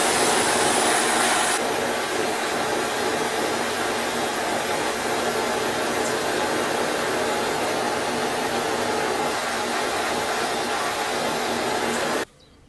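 Steady roaring hiss of an oxy-propane torch burning during a Land Rover Series 2a rebuild, continuous and loud for the whole stretch before cutting off abruptly at the end.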